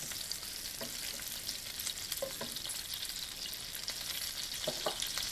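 Garlic stir-fried in a pan for mapo tofu, a steady broadband sizzle of hot oil running throughout, with a few soft stirring clicks and scrapes of the utensil against the pan.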